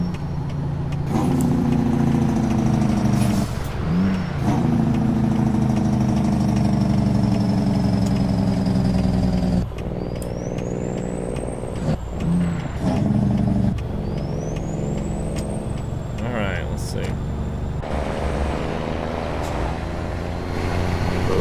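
Kenworth W900B semi truck engine in American Truck Simulator, a throaty diesel idling and pulling steadily with engine-brake sounds, rising whines and shifting revs, loud and continuous for about twenty seconds without talk.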